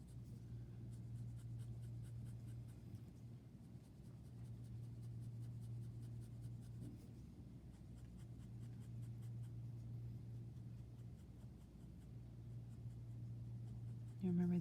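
Pen and ink hatching on paper makes faint, quick scratchy strokes in repeated bursts over a steady low hum.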